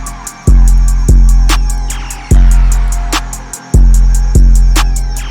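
A second trap pattern: deep, sustained 808 bass notes that slide and restart in a bouncing rhythm, driven by fast steady hi-hats and crisp snares, loud and continuous.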